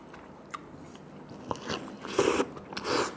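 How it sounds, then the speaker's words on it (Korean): A fast-food burger from Burger King or Lotteria being bitten into and chewed up close, a sharp crunchy bite followed by soft wet chewing and crackly mouth noises, no talking. "일단 한번 먹어보자"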